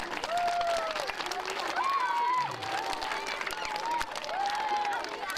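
Sustained applause from a crowd of children and parents at the opening of a new school playground, dense steady clapping mixed with excited shouts and cheers throughout.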